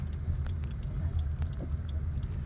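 A car engine rumbles low and steady as it pulls in to park along a road near a gathered crowd, with the deep drone continuous throughout and no talking.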